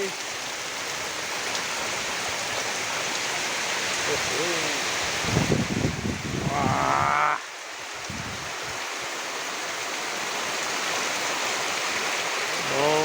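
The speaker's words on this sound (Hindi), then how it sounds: "फिर से मूसलाधार बारिश शुरू हो गई है।" Heavy monsoon downpour pours steadily over a village farm, a dense broadband wash of rain with a brief louder burst midway, while voices speak faintly in the background.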